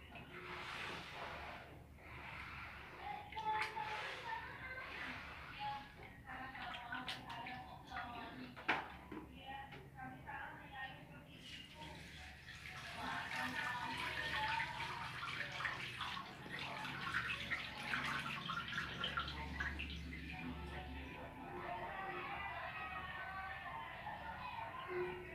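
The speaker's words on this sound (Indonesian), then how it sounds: "Itu berarti dibilas lagi ya, sampai 3 kali." Running water pouring and splashing while cricket eggs are rinsed in a container, a continuous faint wash of flow with occasional knocks, and a person speaks over it.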